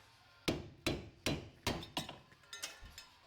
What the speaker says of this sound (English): Because we're replacing it, we can go ahead and hit it directly on the stud.